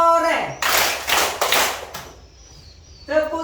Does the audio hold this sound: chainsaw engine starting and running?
no